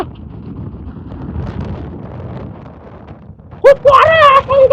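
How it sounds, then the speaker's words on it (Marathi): Strong wind buffets the microphone atop Dhodap Fort, a high hill fort in Maharashtra, in the evening. A low, rumbling gusty roar fills most of the clip before a person starts talking loudly near the end. "खूप वारा आहे, खूप वारा."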